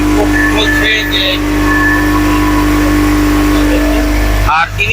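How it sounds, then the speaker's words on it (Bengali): A speed boat engine drones steadily while the boat circles a lake, a loud, close, continuous motor hum with wind rush, briefly shifting near the end. "আমরা এই বিলটি স্পিড বোটে প্রদক্ষিণ করব।"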